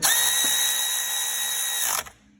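A compact cordless power tool rated at 75 Nm tightens bolts on a modified big-turbo Toyota GT86 track car. It gives a loud, steady high whir for about two seconds, then cuts off abruptly, leaving faint room tone.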